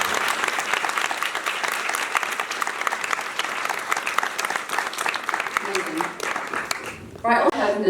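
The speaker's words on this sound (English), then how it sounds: "we just have a big round of applause for that." Audience applause fills a film Q&A session for The Barrier, steady and dense clapping from a crowd that continues for several seconds before dying away as a voice starts speaking near the end.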